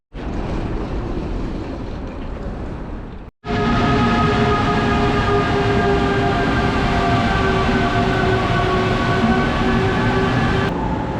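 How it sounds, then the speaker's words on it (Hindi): Train pulling into a station in Saudi Arabia, a loud steady roar with a sharp cut, then a sustained tonal whine of motors and wheels close by, with no talking. "ये ट्रेन आ चुकी है और अभी हम इसमें बैठने वाले हैं"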